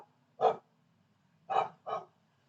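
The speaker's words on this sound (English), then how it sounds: "Neighbour's dog obviously doesn't like the noise." A neighbour's dog barks three times, one sharp bark followed after a pause by two quick ones, sounding somewhat distant and moderately quiet against an otherwise still background.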